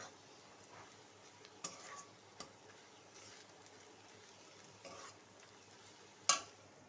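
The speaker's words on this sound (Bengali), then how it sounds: "পেঁয়াজ ভাজা ভাজা হয়ে গেছে" Onions frying in a pan while cooking a potato mash dish, a faint steady sizzle broken by a few sharp clinks of a utensil against the pan, the last one loudest.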